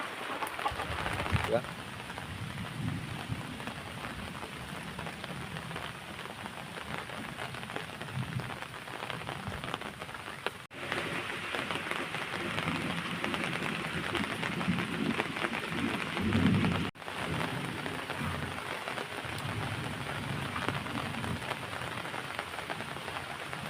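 Steady monsoon rain pours down in Konkan, a dense continuous hiss of drops on surfaces near a rural home with chickens, holding even loudness throughout with no clear thunder.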